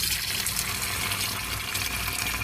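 Rice is rinsed under a running kitchen tap, with water gushing steadily and loudly the whole time and no voices.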